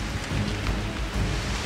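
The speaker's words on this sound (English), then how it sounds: "the rain resumes with a vengeance" Heavy jungle rain falls steadily with broadband hiss and low rumbling, a dense continuous downpour close around, with no voices.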